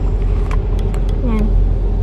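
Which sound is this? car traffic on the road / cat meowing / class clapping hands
car traffic on the road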